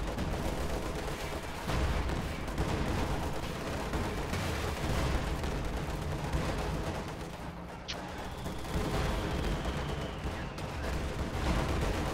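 Howitzer artillery fire in Company of Heroes 2, a dense, continuous wash of booming gunfire and distant blasts, loud throughout the battle with no clear pauses.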